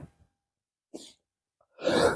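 A few short breathy bursts end in one loud, explosive sneeze, with near silence between the sounds.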